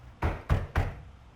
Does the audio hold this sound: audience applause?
no